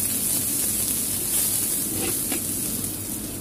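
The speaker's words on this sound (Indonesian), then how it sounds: "masukkan bawang merah. Tumis kembali." Shallots stir-fried in hot oil for a water spinach dish make a steady, hissing sizzle, close and fairly loud, with a couple of brief scraping touches near the end.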